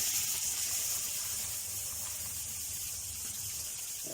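Crushed carrots sizzling over high heat in hot desi ghee with cardamom seeds, a steady broad hiss and crackle that holds evenly throughout without talk.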